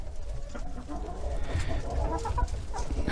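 Several white Silkie chickens, three hens and a rooster, cluck softly and intermittently close by, with low murmuring fowl sounds over a quiet barn background.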